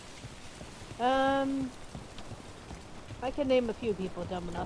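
Steady rain hisses in the background of a scene in the video game Dragon Age: The Veilguard, continuing under character dialogue.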